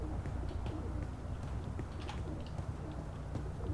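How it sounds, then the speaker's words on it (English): Pigeons coo softly in the video game Dreamfall Chapters, low murmuring calls repeating over a busy ambient background with faint clicks. "Or we could spend some time chasing the pigeons away first."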